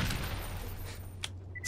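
Rapid SMG gunfire in the PC video game Borderlands, a dense burst of shots fading into the game's background sound.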